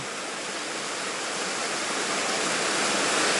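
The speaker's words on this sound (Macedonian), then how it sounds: "овде помали водопади, уба каскада, на повеќе се дели" The small waterfalls and multi-tiered cascade of Laki Potok on Pelister mountain pour in a continuous, loud, close-up rush of falling water that slowly grows stronger, with no voices.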